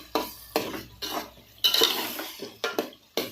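Garlic paste is being stirred in a pan for prawn biryani, with about seven distinct spatula scrapes and clanks in an uneven rhythm over a faint sizzle, close by and with no one talking.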